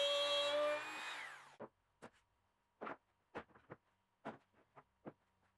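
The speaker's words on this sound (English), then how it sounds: "Once that first dado was cut, I could put the router in the jig, then the jig into the dado, and slide it on down." A wood router in a jig cuts a dado, its loud whine fading out in the first second and a half before a string of short, sharp clatters and knocks follow as the setup is handled.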